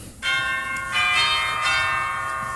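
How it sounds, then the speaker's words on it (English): A cottage doorbell on a Stan Freberg comedy record parodying Little Red Riding Hood rings with clear, sustained bell tones. The chimes overlap and linger for a couple of seconds. "I walked up to the cottage, rang the bell."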